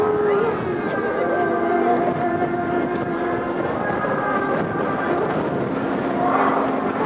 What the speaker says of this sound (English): Here comes Reese diving in high and from the left.